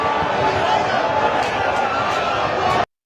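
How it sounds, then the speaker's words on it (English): A large stadium crowd in Kisii boos and shouts at the ODM leader, a loud, steady roar of voices filling the whole stretch before cutting off abruptly near the end. "this time around, he was met with boos and shouts"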